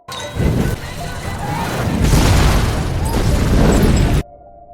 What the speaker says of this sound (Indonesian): menyebabkan kedua kendaraan meledak